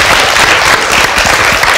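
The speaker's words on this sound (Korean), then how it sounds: "박수 한번 주세요." A school audience applauds at a forum on the free-semester program, dense steady clapping filling the whole moment at close range without pause.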